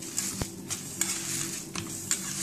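Lemon juice and mashed green chickpeas being mixed in a bowl for tikki, heard as close, irregular spoon clinks and scrapes against the bowl with soft wet stirring between them, no voices.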